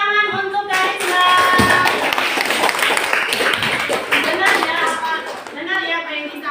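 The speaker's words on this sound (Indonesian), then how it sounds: "Oke, tepuk tangan untuk Karisma." Students in a classroom clap for a classmate, a dense, steady burst of close applause mixed with children's voices and chatter throughout.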